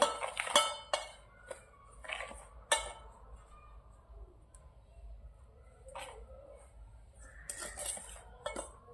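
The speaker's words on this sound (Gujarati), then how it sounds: "આ બધું આપણે આમાં મિક્સ કરી લઈશું" Gram flour and rice flour with salt and chili flakes mixed in a bowl for appam batter; a spoon clinks and scrapes against the bowl in sporadic, close bursts with quiet gaps between.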